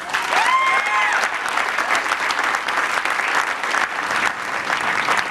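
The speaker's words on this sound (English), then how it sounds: "that's Arnold Schwarzenegger, the governor of California, applauding the passage of a California ballot initiative" A crowd at a California election-night gathering bursts into loud, sustained applause after a ballot initiative passes, dense steady clapping with a few cheers and no clear talk.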